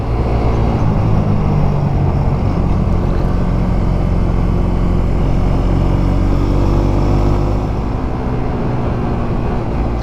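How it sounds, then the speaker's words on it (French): A Royal Enfield motorcycle engine runs steadily throughout, a deep, round, somewhat heavy rumble with constant loudness and no talking. "Mon moteur, il a jamais fait un tel bruit. Il est rond et un peu lourd"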